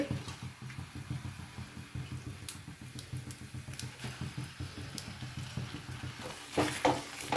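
Blue mussels being stirred in a pan of ghee, Udupi-style roast, giving a close, soft rhythmic scraping and shuffling over a low sizzle, with a few sharper clinks near the end and no talking.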